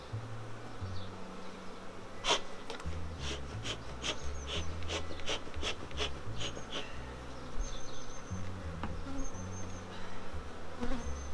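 Dense, steady buzzing of many honeybees close by, a continuous droning hum with individual bees passing near, no voices.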